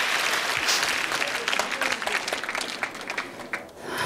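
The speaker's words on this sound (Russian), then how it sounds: "Все студенты вам аплодируют." Studio audience of students at a quiz show applauding, a dense, steady burst of clapping that fills the room and fades slightly toward the end.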